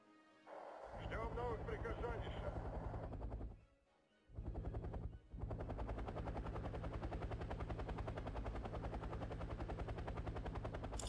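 Mi-8 helicopters firing in the strategy game Wargame Red Dragon: continuous rapid machine-gun bursts over a rotor drone, briefly dropping out twice, with a voice talking over the start.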